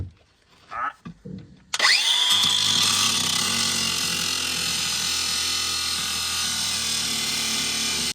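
Angle grinder cutting off rotating captive nut studs from below, starting abruptly after brief quiet movement noises and running loud and steady with a high whine through the rest.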